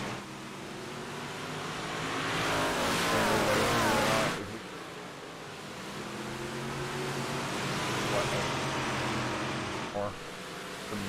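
Small block modified race cars roar around the Cedar Lake track, their engine noise swelling and fading as they pass, while a race announcer talks over the action.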